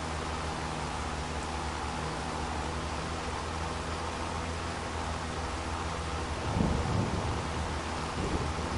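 Steady rain in the video game Farming Simulator 25 hisses continuously, with a low rumble swelling briefly near the end, like distant thunder.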